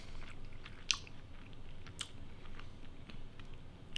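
Crispy grilled potatoes seasoned with olive oil are chewed close to the mic, soft repeated crunches and bites with a few sharper clicks over a quiet room.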